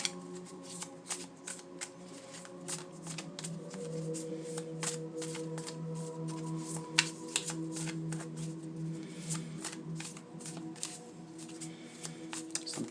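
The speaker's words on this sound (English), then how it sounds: "Sometimes the shuffles are long," Tarot cards shuffled close by in a long, steady run of crisp riffling flicks and soft slides, with rapid repeated card snaps and no talking.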